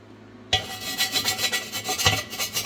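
Black ceramic coating flaking off a car part as it is rubbed, a close, steady rasping scrape that starts abruptly and continues in rhythmic strokes.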